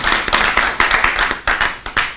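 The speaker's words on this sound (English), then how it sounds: "Another round of applause." Applause from an audience at a talk on cannabis business and policy, a short burst of loud, close hand clapping with uneven, sharp individual claps over about two seconds, no speech.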